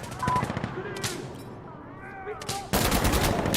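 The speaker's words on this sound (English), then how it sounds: "Sounds like an AUG, perhaps. Or, I mean, a Vector." Rifle fire from an AUG or Vector in Insurgency Sandstorm: bursts of rapid shots, some sounding distant, with a louder burst at the end, mixed with faint radio-like tones and voices.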